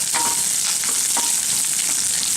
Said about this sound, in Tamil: சீரகம் எண்ணெயில் பொரிஞ்சிட்ருக்கு.